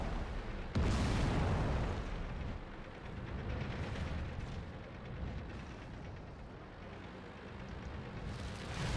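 Enemy tanks in World of Tanks fire on the player's ARL 44 with a heavy cannon boom near the start and a second blast toward the end, with sustained rumbling battle noise and engine drone between.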